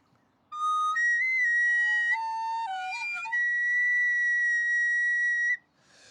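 A recorder plays a short, clear, breathy melody of sustained whistling notes that step up and down, loud and close, alone for several seconds before stopping.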